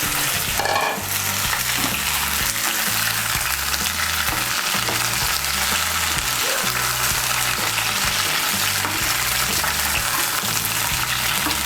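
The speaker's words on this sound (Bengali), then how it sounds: "কড়াইতে যে তেল আছে এই তেলের মধ্যে আমি ফুলকপিটাকে হালকা করে ভেজে নেব" Cauliflower pieces fry in hot oil in a wok, giving a loud, continuous sizzle and bubbling hiss that holds steady from start to finish with no voices.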